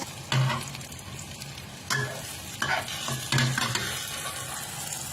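A cha-om omelette fries on high heat, a steady sizzle punctuated by several sharp scrapes and knocks of a spatula stirring in the pan, with no voices.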